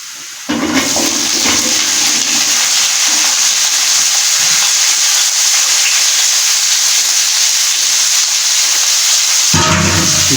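Cauliflower hits hot oil with golden-browned garlic and ginger, bursting into a loud, steady hiss that runs unbroken after a quieter start, with a short burst of stirring near the end; no voices.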